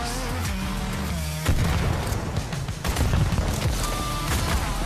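Explosion in the VR shooter game Pistol Whip, a loud booming burst over the game's driving electronic music, followed by dense rumbling and crackling that lingers a few seconds.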